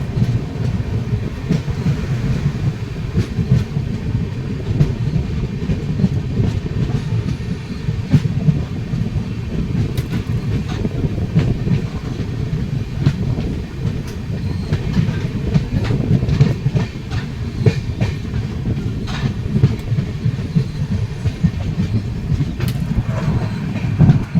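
Doon Express passenger train running on rails in the morning, a steady loud rumble with rhythmic clickety-clack of wheels over rail joints throughout, no voices.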